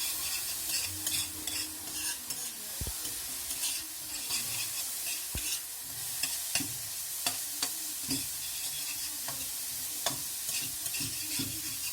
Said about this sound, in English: Roast all this together, you get this amazing fragrance as soon as the coconut goes in.